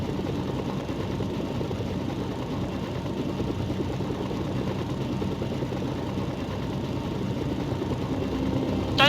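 A helicopter drones steadily in a video game, a constant low rotor and engine hum that holds at an even level for the whole stretch and swells slightly at the very end.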